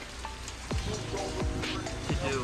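Steady rain falls outside in hot, muggy weather during work on a Lexus IS300, a soft continuous patter with someone talking briefly.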